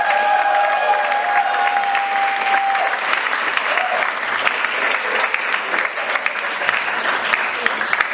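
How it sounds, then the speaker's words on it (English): Audience at a debate event in a hall breaks into sustained applause, dense clapping holding steady for several seconds with faint crowd murmur underneath. "Give him a big round of applause"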